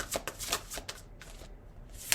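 Tarot cards are shuffled and flicked down one at a time at close range, a soft papery riffle of quick slaps and rustles with faint background hum.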